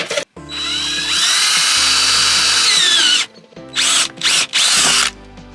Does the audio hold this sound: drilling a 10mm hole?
yes